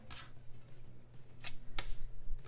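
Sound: trimming paper with scissors

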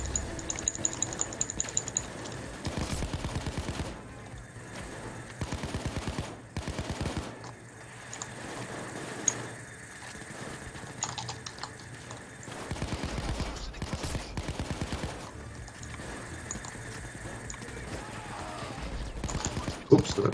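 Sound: gunfire in the video game Payday 2

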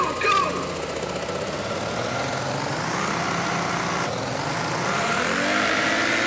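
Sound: racing car engines starting and revving in a video game

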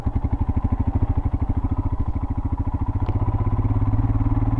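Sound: Royal Enfield Himalayan motorcycle riding on off-road trail

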